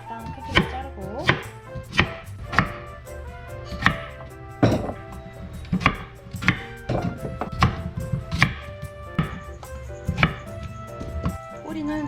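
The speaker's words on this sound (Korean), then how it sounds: "적당한 크기로 자르고" A knife chops radish into chunks on a board for kimchi, a run of sharp, fairly regular thuds close up, some louder than others, with no talking.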